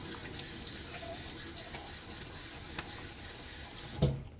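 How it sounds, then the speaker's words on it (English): Tap water runs steadily into a sink as a man wets his face before a wet shave, a continuous close splashing stream with a brief louder splash near the end. "I'm gonna get a little water on my face"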